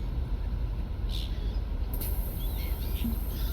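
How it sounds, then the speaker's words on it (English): Seagull calls from a Tourist Bus Simulator game ambience featuring a MAN Lions Intercity coach: a few brief, high, faint cries scattered over a steady low engine-like drone. "See how loud these seagulls are."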